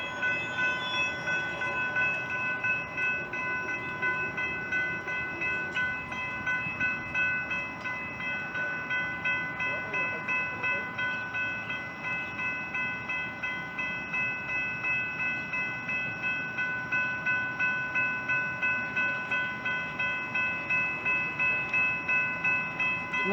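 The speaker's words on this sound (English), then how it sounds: "We're actually gonna catch a train coming." A train passes in Grapevine, Texas, with a steady, rhythmic clatter of wheels over rail joints pulsing at an even beat under a constant rumble, fairly close and with no voices.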